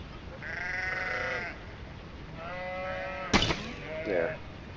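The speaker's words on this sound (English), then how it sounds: "we got to deal with the sheep." Sheep bleat in a video game, two or three drawn-out wavering calls and then a sharp sound with a last short bleat, set over a soft steady background.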